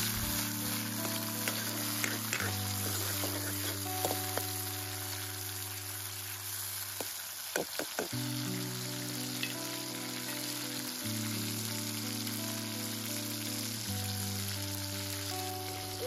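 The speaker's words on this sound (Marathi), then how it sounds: "आता टोमॅटोला सुद्धा हलकासं परतून घ्यायचं" Chopped tomato is sautéed in a hot tempering for misal, a quiet steady sizzle under a sustained background hum, with a few soft stirring clicks.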